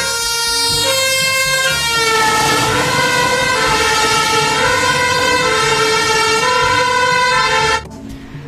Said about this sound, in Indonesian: Yang ini ada mobil polisi ambulans.